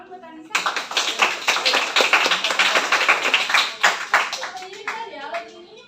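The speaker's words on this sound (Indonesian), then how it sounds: "Tepuk tangan buat Anissa." Classroom applause during a microteaching sociology lesson: a burst of close, lively hand clapping from a group of students that starts abruptly, holds for several seconds and tapers off, with a few voices audible near the end.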